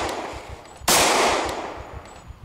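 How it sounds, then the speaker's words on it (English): A single sharp gunshot cracks out in the zombie survival game Project Zomboid, loud and close, with a decaying tail over a faint rhythmic background. "We probably should pause between shots."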